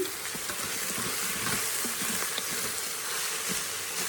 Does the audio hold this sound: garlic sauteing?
yes